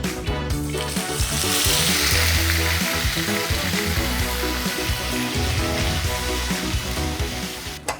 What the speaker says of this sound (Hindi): अब देखिए इसमें पड़ेगा प्याज, अदरक, लहसुन और मिर्ची का पेस्ट।